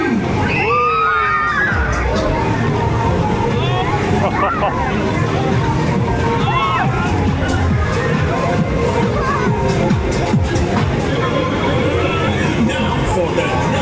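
Riders on the Ramba Zamba fairground ride at Pinner Fair scream, shout and cheer in a dense, continuous crowd roar, children's shrieks rising above the mechanical rumble throughout.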